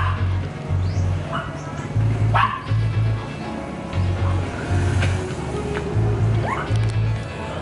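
Small dog outside a Bangkok guest house barking and yipping repeatedly at close range, quick sharp yaps in a steady irregular string, with faint street noise behind.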